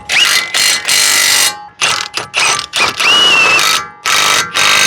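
A ratchet tightens the nuts on a 4WD tie rod, giving loud, close bursts of fast clicking that start and stop in several separate runs, with short pauses between strokes.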